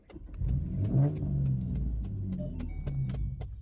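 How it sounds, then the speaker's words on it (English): A car engine cranks and catches, then runs with a low rumble and faint rattling clicks, close up and alone. "my car make noise when I turn it on"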